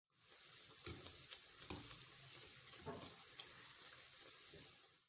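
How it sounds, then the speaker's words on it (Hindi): Sweet tikia frying in hot oil over medium heat, giving a steady close sizzle with a few soft clinks and stirring knocks throughout. "ये देखिए, ये फ्राई होके यूं ऊपर आती जाएंगी।"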